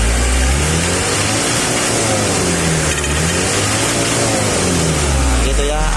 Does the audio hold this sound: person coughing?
no